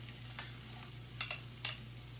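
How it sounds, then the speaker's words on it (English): Chopped onions are tossed into a hot pan in a small kitchen and sizzle quietly, with a few soft clatters over a steady low hum. "Gonna throw me some onion in here."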